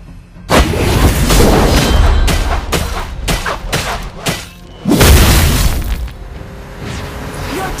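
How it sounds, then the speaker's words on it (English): Loud booming blasts from a turret being destroyed in Mobile Legends: Bang Bang, a string of heavy explosive hits with a big boom near the middle and crackling debris between. "Your team destroyed the turret."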